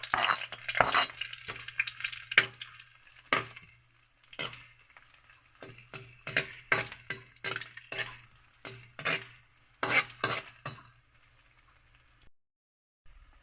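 Onion sautéing with ginger and garlic in a pan for a fresh mussel dish, heard as a soft sizzle broken by a series of sharp spatula scrapes and stirring bursts, close and irregular.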